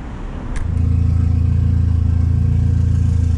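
Turbocharged Chevrolet Chevette engine catches and settles into a loud, close, rough and lumpy running note with a rhythmic pulsing throb.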